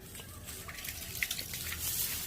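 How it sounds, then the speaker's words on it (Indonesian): A water tap runs at a garden spot where porang seedlings are raised from spores, giving a low, steady splashing flow with a few faint drips on top, quiet and without speech. "kemudian kita ambil keran air, ya, keran airnya"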